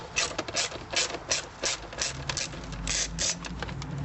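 A ratchet on a long extension backs out a shifter bolt during a solid shifter install on an Audi B6/B7 A4/S4, giving close, crisp runs of rapid clicking in short repeated bursts.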